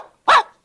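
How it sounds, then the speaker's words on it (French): A single short, loud dog bark from a 1944 Goofy cartoon football game, where the quarterback barks out his signals. "le quarterback aboie ses signaux"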